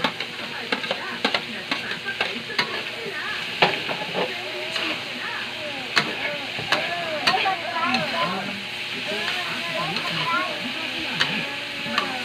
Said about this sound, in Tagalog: Saglit lang naman itong maluto kasi luto na lahat ng ingredients